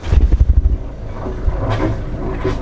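A Dufour 460 Grand Large sailboat's engine cranks with rapid low thumps for under a second, then settles into a steady idling rumble.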